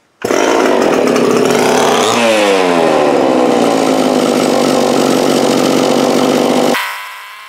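A small gas chainsaw, a Homelite or McCulloch such as the Homelite S-XL 925, McCulloch PM700 or Homelite XL-12, runs loud and close at steady high revs, with one brief throttle dip early on, before cutting off near the end.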